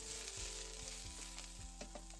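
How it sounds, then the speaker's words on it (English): Onion sizzling in hot vegetable oil in a pan, a soft continuous crackle with a few light stirring knocks, close and fairly quiet, no voices. "Start frying it"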